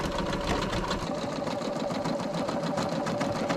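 An embroidery sewing machine stitches in a fast, even mechanical chatter, a steady motor hum under rapid repeated needle strokes, close by and uninterrupted.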